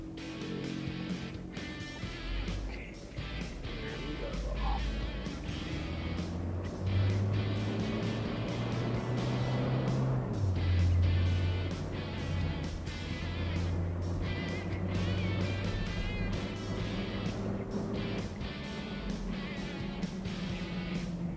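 Engine drone from a 1992 Toyota Land Cruiser Prado with automatic transmission in normal mode, heard from inside while accelerating on the road. The pitch climbs and drops through gear changes at a moderate, fairly faint level.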